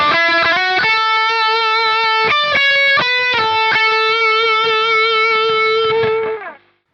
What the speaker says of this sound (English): I'm actually going for the Scaline Pure Sky Overdrive pedal